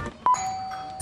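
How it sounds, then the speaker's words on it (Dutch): Doorbell at a house front door chimes once with a clear two-tone ding, loud and close, followed by a softer sustained tone fading out under quiet room noise. "Dan bel ik nog een keer aan."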